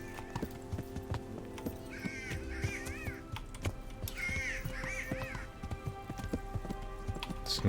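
A bird cawing in Kingdom Come: Deliverance, harsh repeated wavering calls in two bursts over rhythmic horse hoofbeats and ambient game sound.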